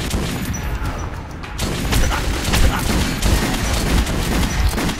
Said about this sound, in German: Das Maschinengewehr-MG ist natürlich die beste Lösung